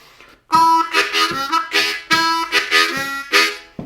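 A harmonica plays a short country blues vamping lick, loud and close, with several bending, chord-like breaths in a rhythmic phrase.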